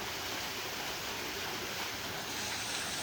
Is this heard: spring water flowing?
yes